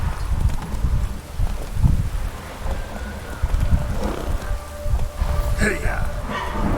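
Roach the horse galloping in The Witcher 3, steady hoof clip-clop under rain-like ambience, with someone talking over it.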